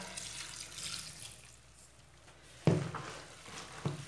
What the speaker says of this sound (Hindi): सारे साग को मैंने काट लिए इसको अच्छी तरह धो लेंगे इसको तीन चार बार धो लेंगे अच्छी तरह